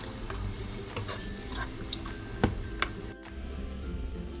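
Chicken curry paste seasoned with a little fish sauce sizzles and is stirred in a pan as water goes in. There is a steady, close frying hiss with a few sharp clicks and a brief dip in the sizzle.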